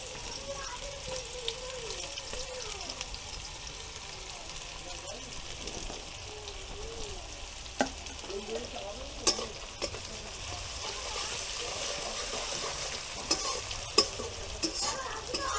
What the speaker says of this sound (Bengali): কুচুনో পেঁয়াজটা এবার আমি ভেজে নেবো